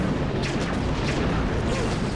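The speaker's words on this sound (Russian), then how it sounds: "Кто стреляет?" Rapid bursts of gunfire in the video game Redline: Gang Warfare 2066, booming shots repeating in quick succession over a dense, loud continuous rumble of battle noise.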